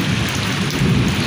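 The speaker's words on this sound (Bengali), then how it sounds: "এখন বজ্রপাত হচ্ছে বেশি এবং বৃষ্টি কম" Rain falling steadily in a village during a thunderstorm, a dense continuous wash with a low rumbling undertone suggesting thunder, heard close and fairly loud with no voices.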